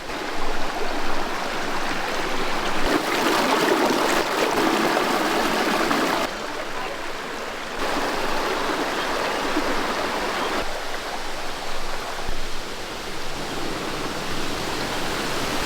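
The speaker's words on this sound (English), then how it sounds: "That's our natural waterfall and pond." A natural waterfall pours into a deep pond below a tall rock, a steady close rush of falling water with rough hiss that shifts slightly in level but never stops, with no talk.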